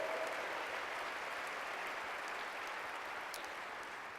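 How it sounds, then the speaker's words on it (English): An audience at an association's annual state-of-the-association speech breaks into applause, an even wash of clapping that holds steady, moderately loud and slowly easing toward the end. "Yes, that's worthy of applause."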